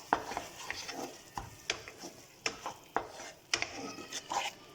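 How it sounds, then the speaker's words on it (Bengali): A spoon stirs salted dum aloo ingredients in a pan over medium heat. Soft sizzling sits under irregular clinks and scrapes against the metal, repeating every half second or so. "নুন দেওয়া হয়ে গেছে, এবার সব মিশিয়ে নিচ্ছি"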